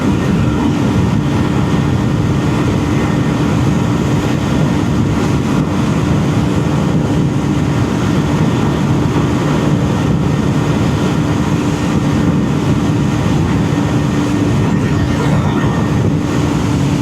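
Steady, loud drone of a Husqvarna Svartpilen 250 motorcycle engine while riding, a continuous low rumble mixed with wind noise that holds constant throughout, with no talking.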